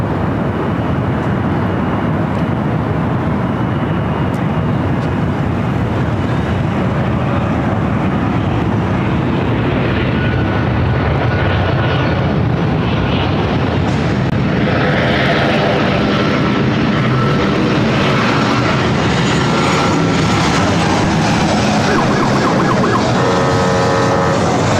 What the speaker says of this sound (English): British Airways Flight 268 taking off to London Heathrow on the A380.